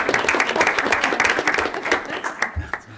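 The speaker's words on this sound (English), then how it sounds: "You can applaud for that, because that's fantastic." Sustained applause at a regular school board meeting recognising trophy winners, with many hands clapping at a steady loud level that thins toward the end, and some voices under it.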